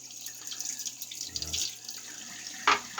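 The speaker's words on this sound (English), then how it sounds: "Get a quick rinse." A water tap runs briefly to rinse a French wedge-blade straight razor, a soft, close trickle and splash with a slightly louder burst near the end.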